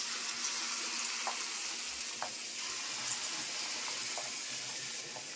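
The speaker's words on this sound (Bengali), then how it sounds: "তেল গরম হয়ে গেছে, এখন বড়াগুলি দিচ্ছি।" Fritters (bora) frying in hot oil in a home kitchen: a constant, close, hissing sizzle with small pops and crackles scattered through it, quiet and steady, with no one speaking.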